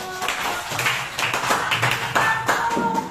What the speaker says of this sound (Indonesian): Aplaus untuk kelompok 1.